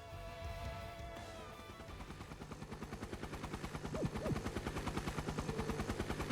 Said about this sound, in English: What's that noise? It's a helicopter